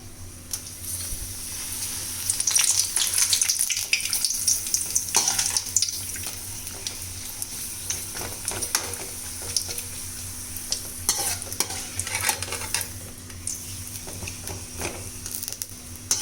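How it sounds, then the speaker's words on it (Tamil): Appalam (papad) fries in a pan with a steady crackling sizzle and occasional stirring scrapes, moderately close and continuous throughout, with no talking. "அப்பளம் வறுத்தாச்சு"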